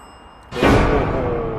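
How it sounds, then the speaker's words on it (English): A single bell tapped once, with a sudden strike followed by a fading, ringing tone. "Can you tap that bell?"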